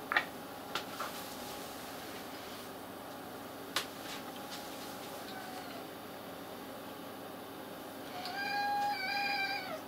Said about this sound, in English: One of my cats is sitting here with me.